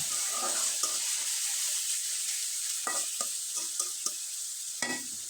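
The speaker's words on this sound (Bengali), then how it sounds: "কড়াইয়ে তেল দিয়ে দিলাম প্রায় দুই টেবিল চামচের মতো সামান্য পরিমাণে একটু জিরা অ্যাড করে দিলাম" Cumin seeds sizzle in about two tablespoons of hot oil in a wok with a steady, bright frying hiss. Occasional spoon taps and stirring clicks sound over it, with no voices.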